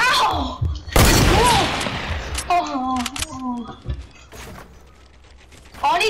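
Sniper gunfire in the battle royale game Fortnite: a loud, sharp burst near the start followed by a few scattered, fainter cracks, with voices talking over much of it.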